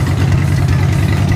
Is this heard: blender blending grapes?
no